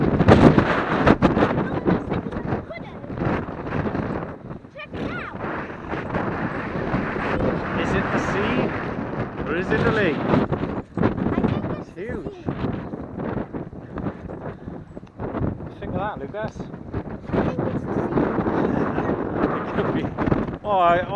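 Strong wind buffets the microphone on an exposed mountainside above the Llyn y Fan Fach reservoir in Wales, a continuous loud rushing roar with gusty swells lasting throughout while people talk over it.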